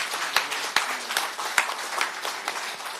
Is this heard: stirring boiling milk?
no